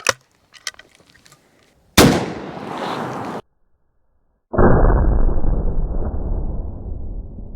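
Two sharp, loud blasts from a New England Firearms .410 Pardner shotgun fired at a soda can, the first a short crack, the second a longer burst followed by a sustained roaring spray or rumble after a brief silence.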